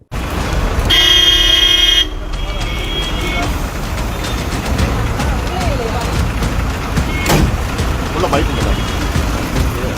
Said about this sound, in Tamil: ஏர் ஹாரன் அப்படின்னு சொல்லக்கூடிய அதிக சத்தம் எழுப்பக்கூடிய ஹாரன்